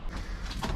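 A cash drawer at the bar of an earthquake-damaged historic pub in New Zealand slides open with a brief, close mechanical rumble and scrape.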